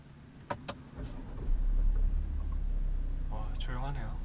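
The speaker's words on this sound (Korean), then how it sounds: "그럼 시동 한번 걸어볼게요" A Volkswagen Touareg 3.0 TDI V6 diesel starting up: a few clicks, then the engine catches and settles into a low, quiet, steady idle while people talk inside the cabin.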